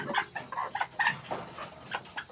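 Young native chickens, pullets, cluck in a series of short, soft calls spread across a couple of seconds, close by on a farm with no voices.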